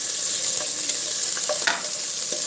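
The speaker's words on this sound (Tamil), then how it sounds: "நல்லா வதக்கி விட்டுறணும்" Onions sautéing for biryani in a hot pan, a steady loud sizzle with occasional stirring scrapes and clicks, alone without talk.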